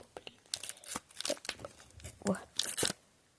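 Double-sided tape being peeled in short, crackly tearing bursts, close and quiet, separated by brief pauses.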